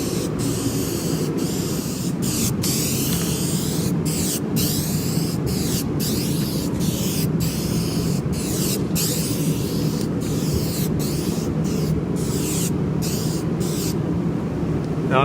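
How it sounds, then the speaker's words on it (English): A Duplicolor clear coat spray can hisses continuously onto a truck in loud, close bursts with short pauses, over a low steady background rumble. "here's your Duplicolor clear coat"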